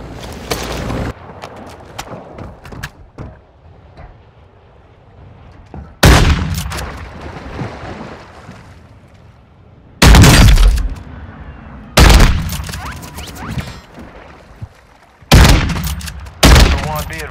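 Gunfire in a shooter video game: loud bursts of shots and booms strike at intervals, with quieter rattling and movement between them, near and dominant over a low game background.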